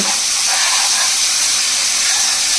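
Sliced onions sizzle in hot oil in a frying pan for a village-style country chicken curry, a steady, loud hiss that runs the whole time with no voices.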